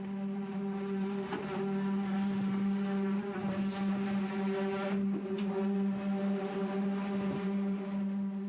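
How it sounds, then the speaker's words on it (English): Concrete compaction pokers vibrate at a port construction site, making a loud, steady mechanical drone with a strong tonal hum that holds for the whole stretch, with no speech. "So the noise you hear from these pieces of equipment here, these are called compaction pokers."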